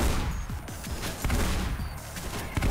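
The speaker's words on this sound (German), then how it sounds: "auf Distanz mit einer Schrotflinte zu schießen" Repeated shotgun blasts in Mirror's Edge, several sharp booming shots spaced irregularly over steady background noise of combat, fairly loud and close.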